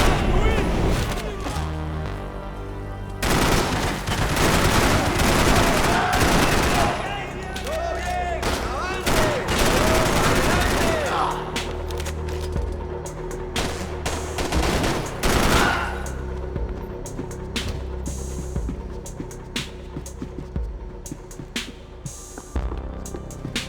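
Gunfire in the Max Payne 3 video game, dense bursts of shots and booms that are loud and continuous at first, then thin out into scattered sharp pops over a low rumbling background.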